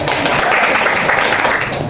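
A class of elementary school children claps together during a science lesson on magnets, a steady, dense patter of hands close by that fills the whole moment without a break.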